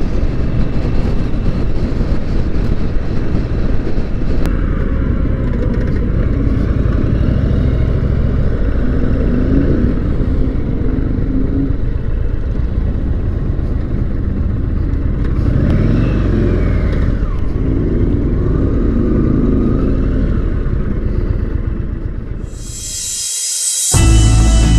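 An Indian bobber motorcycle on a demo ride at a dealership event, its engine rumbling loudly and steadily with passing revs and wind, ending in a brief cutoff and a burst of noise.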